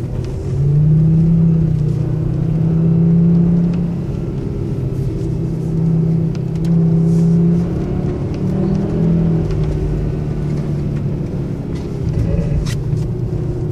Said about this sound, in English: Here's going to be a braking test. Pretty good braking to slow down there.